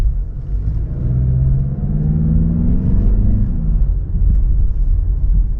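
A 2024 Mazda CX-30 Carbon Turbo drives with a loud, close engine rumble that rises in pitch as it accelerates and then settles, with no talk over it.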